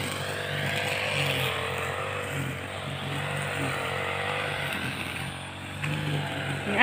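A mower engine runs steadily after being restarted, a droning motor hum at moderate level with a slight rise and fall, heard alone without voices.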